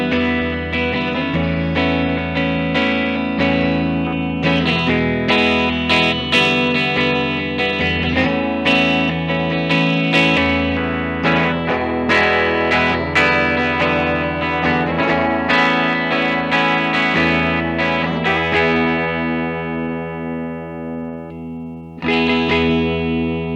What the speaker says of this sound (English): run through our tones of this, starting with our neck position going down to the bridge